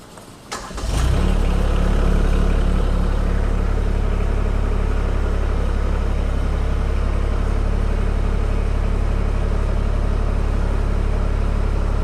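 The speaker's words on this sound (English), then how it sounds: "you can start the tractor up." Tractor with a backhoe attachment cranks briefly and its diesel engine catches, then settles into a loud, steady, low idle rumble that continues unchanged for about eleven seconds.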